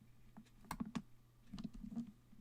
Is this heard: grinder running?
no